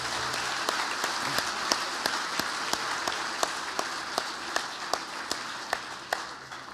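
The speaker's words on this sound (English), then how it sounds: "please join me in a round of applause for the MAC staff" Banquet guests at the Missouri Athletic Club Hermann Trophy Banquet give a round of applause for the club staff. It is a steady, moderate clapping with a few sharper individual claps standing out at regular intervals.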